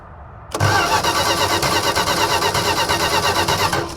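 A cold engine cranks with its carburetor held wide open and the spark plugs removed. The starter kicks in abruptly and then drones in a steady, loud, close whir for about three seconds before stopping, with no voices.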